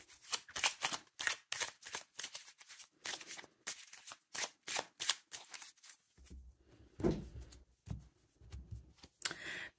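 Oracle guidance cards shuffled and drawn by hand, a rapid run of crisp papery riffles and flicks up close, then slower handling with soft low thumps and slides as a single card is pulled, no talking.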